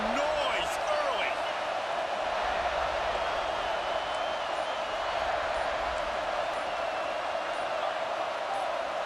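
In Madden 26, a stadium crowd keeps up a steady, droning roar of noise, while commentators talk over it.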